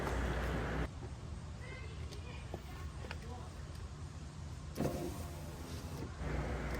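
Electric power window motor in a push-to-start Ford Explorer driving a rear door window, a steady mechanical whir running close under the cabin hum for several seconds with brief clicks at start and stop.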